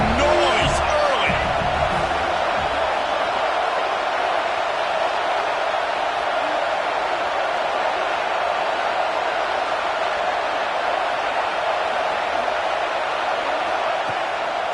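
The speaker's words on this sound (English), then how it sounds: "This crowd bringing the energy and noise early." A college football stadium crowd at Georgia State versus USC fills the air with a dense, continuous roar, steady and loud from start to finish, with a brief sharper burst near the opening.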